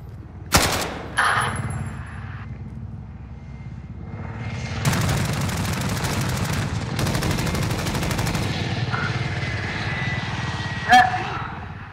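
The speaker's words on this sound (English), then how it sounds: "Attack chopper, I think." An attack helicopter in the Call of Duty Modern Warfare video game roars steadily overhead with bursts of rapid gunfire, loud and continuous, with a few sharp impacts and clanks.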